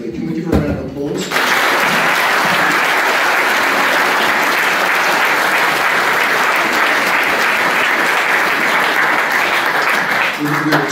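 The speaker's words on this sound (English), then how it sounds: "Can we give her a round of applause?" Sustained applause from an audience at a Year 10 school prize giving, loud and steady for about ten seconds after a short moment of talk at the start, fading slightly at the end.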